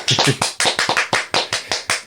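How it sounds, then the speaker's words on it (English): A lone podcast host gives mock applause, about a dozen sharp, close hand claps in an uneven, slightly hesitant rhythm, dry and loud with nothing else underneath. "I'm even going to give you the applause."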